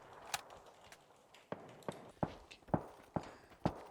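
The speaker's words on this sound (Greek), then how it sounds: "Ακοβήματα!" Footsteps in the PUBG video game: a run of quiet, regular thuds, about eight or nine steps, grows gradually closer and slightly louder, with no voices over them.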